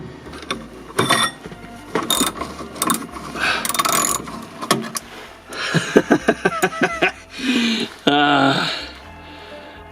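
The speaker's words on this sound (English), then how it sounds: "that, ladies and gentlemen, is how you remove a nut that has probably never been removed before" Rusty nut being worked loose with a ratchet on a Scimitar restoration, heard as bursts of metallic clicking and grinding, then a quick run of ratchet pawl clicks near the end, close and fairly loud with talk mixed in.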